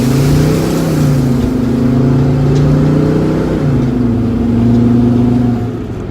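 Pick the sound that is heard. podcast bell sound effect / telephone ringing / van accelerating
van accelerating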